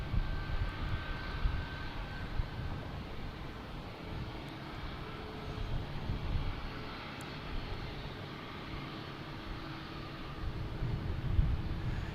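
An airliner roars down the runway on takeoff at Boston Logan Airport, a steady broad jet rush heard from some distance, holding fairly constant and loud throughout with no talking.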